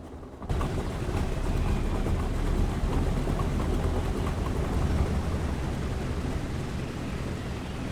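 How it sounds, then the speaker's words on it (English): Junkers Ju 52 radial engine in a flight simulator cranks up and settles into a steady, loud, low rumbling idle after a brief quiet start, continuing evenly without talk. "Engine should start up and then settle at about 700 RPM."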